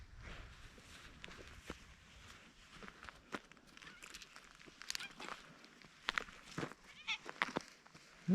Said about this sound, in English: Oh, the kitty cat's following me.